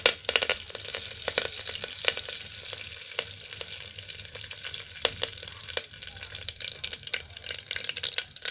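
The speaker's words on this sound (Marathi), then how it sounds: "आता त्याच्यामध्ये तेलामध्ये ना हे जिरं आणि मोहरी टाकते फोडणीसाठी" Cumin and mustard seeds sizzling in hot oil for a tempering with curry leaves, a close crackling sizzle punctuated by sharp pops and spatters throughout, no speech.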